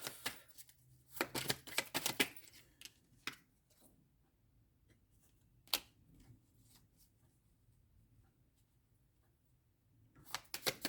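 Tarot cards being shuffled by hand, quick close riffling bursts in short clusters at the start, a few stray snaps in a quiet middle, then another flurry of shuffling at the end.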